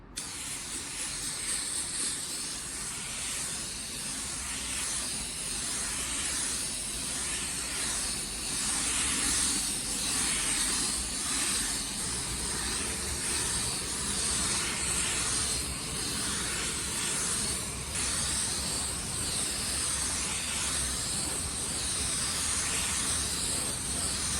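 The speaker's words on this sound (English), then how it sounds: "Now I have my gun right around 2 bar pressure and I'm gonna apply a normal coat of clear." A spray gun set to about 2 bar lays down a normal coat of automotive clear, giving a steady, close, continuous airy hiss that holds level throughout with only slight swells.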